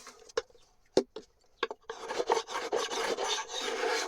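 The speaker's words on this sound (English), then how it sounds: "As I'm planing, all the wood is coming off and it's coming out like a pale wood" Hand plane shaving wood off the surface of an ebonized violin fingerboard: a few short isolated rasping strokes, then a steady run of close, loud scraping passes.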